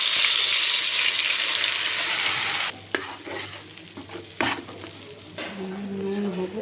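Whole garam masala and spice paste fry in hot oil, giving a loud, steady sizzle for the first few seconds. Softer crackling and stirring scrapes follow.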